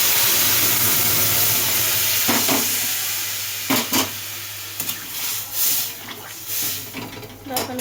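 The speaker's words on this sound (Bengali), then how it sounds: "এবার এর মধ্যে আমি জল দিয়ে দেবো, গুনগুনা গরম জল দিয়ে দিচ্ছি।" Lukewarm water poured into a hot pan of fried cauliflower, potato, carrot and fish vegetables gives a steady steamy hiss and sizzle, fading gradually, followed by a few brief clatters near the end.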